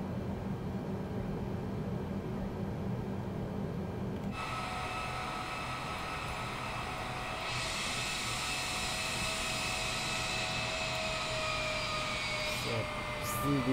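An airliner taxis on the ground in Microsoft Flight Simulator 2020 on a night flight from Abu Dhabi to Dubai. A steady, close jet-engine roar gains a higher turbine whine around four seconds in and swells again a few seconds later.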